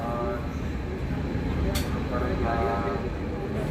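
Intercity Begampura Express train slowing as it pulls into Ludhiana Junction, a steady broadband rumble of wheels and carriage noise throughout, with a brief hiss partway through and people talking underneath.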